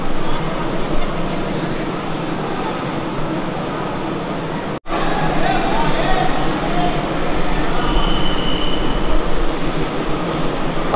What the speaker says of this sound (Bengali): এই হচ্ছে কিন্তু আমাদের কলকাতার পশ্চিমবঙ্গের প্রথম এসি লোকাল ট্রেন।